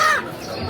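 Rooster at a busy bird market giving a brief, close cluck or crowing call at the start, followed by softer mixed bird and crowd noise.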